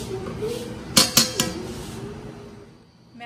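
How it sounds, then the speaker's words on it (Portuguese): A metal lid clinks onto a large pot of fish cooking in sauce, three quick close clanks over a low kitchen hum. "eu tampei a panela assim, ó"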